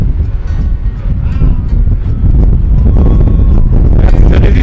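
Strong wind on an Icelandic mountain road near a volcano buffets the microphone with a constant low roar and rumble, loud and close throughout.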